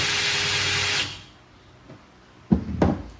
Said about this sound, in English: This is where a power tool comes in handy.